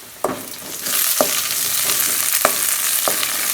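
Small shallots and curry leaves fry in oil for a river fish curry: a steady sizzle swells after a first clatter, with four distinct scraping knocks of stirring spaced through it and no voices.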